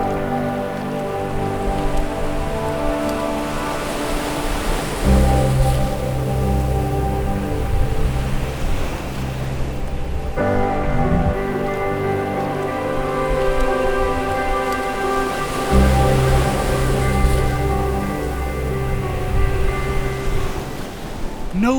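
Steady broadband wash of surf on a quiet beach in Barbados, continuous and fairly close, with sustained musical tones layered over it throughout.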